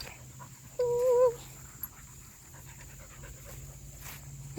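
A dog on a park nature walk gives a brief high whine, then pants softly and quickly close by against quiet outdoor ambience.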